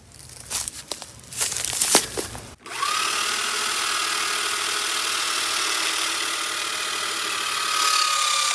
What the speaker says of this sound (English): we can get the jack under there and slide it over